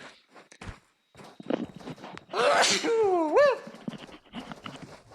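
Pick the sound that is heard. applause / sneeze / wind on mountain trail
sneeze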